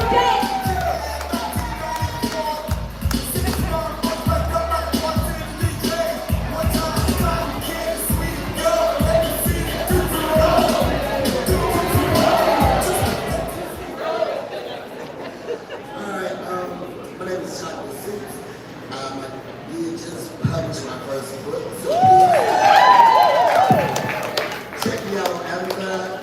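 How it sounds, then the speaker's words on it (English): An audience at a live poetry event in Phoenix claps and cheers, with rhythmic clapping and crowd noise in the first half, then quieter stretches and a later burst of voices. "Can y'all make some noise and clap it up for Chocolate Suze?"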